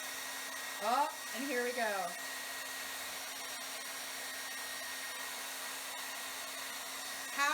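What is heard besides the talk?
hair dryer melting crayons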